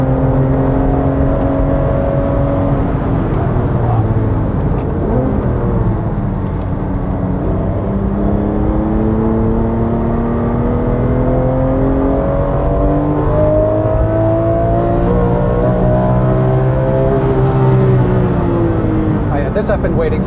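A Porsche 996 GT3 engine sings at speed on the Nürburgring, a loud steady wail with rising and falling pitch sweeps through gear changes, heard from inside the car.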